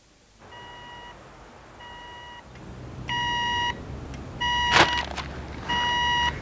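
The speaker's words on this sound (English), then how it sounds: "that red thing's making that sound again. What is your problem? It's a phone." A red telephone rings with electronic beeps, repeating in short steady bursts about five times over a low background hum. One sharp click cuts in partway through, and no one speaks.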